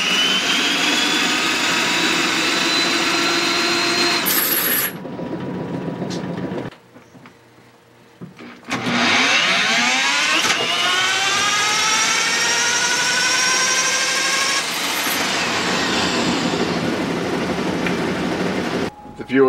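A Hilti UH650 drill runs on an inertial dyno, spinning up with a rising whine and climbing harmonics, cutting out briefly, then revving again to a loud sustained high-pitched motor scream before winding down.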